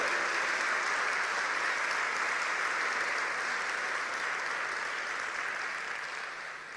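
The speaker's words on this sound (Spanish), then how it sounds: "Dale un aplauso, es promesa de Dios." A church congregation applauds during a sermon, a dense, even roar of many hands clapping that holds steady and tapers slightly at the end.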